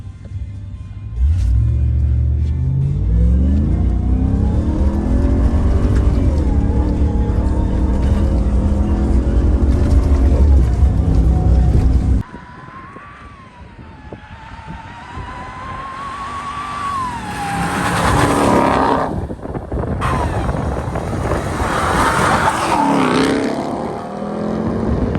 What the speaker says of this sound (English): we're not going to launch hard, but we're going to launch without spinning the wheels.